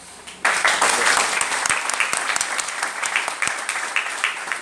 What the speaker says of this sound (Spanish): qué generosos de aplausos que estamos hoy